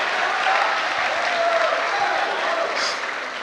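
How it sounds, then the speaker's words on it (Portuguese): Lively audience applause at a stand-up comedy show, dense clapping from a crowd throughout, loud and steady with a slight fade near the end. "Aplaude ainda."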